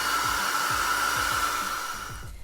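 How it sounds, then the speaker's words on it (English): A hair dryer in an empty house in Okinawa, Japan blows with a steady, close whooshing roar and high motor whine, running continuously before easing off slightly at the end. "There's a hair dryer in here, and I'm gonna try it out."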